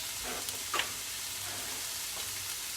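Yellow curry paste in a hot pan while making coconut curry wonton noodles, a soft continuous sizzle with a few brief scraping stirs, fairly quiet and close.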